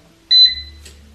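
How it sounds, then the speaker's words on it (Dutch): An Inventum GF350HLD air fryer gives one short, loud, high electronic beep, close up in a quiet room, followed by a low hum. "is dat het geluid van het piepsignaal behoorlijk hard is"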